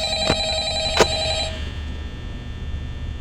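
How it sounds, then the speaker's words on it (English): An old-style telephone bell rings in Five Nights at Freddy's, two sharp rings close together followed by a fading ringing tone, over a low ambient hum with no talk. "Hello? Where's the phone at?"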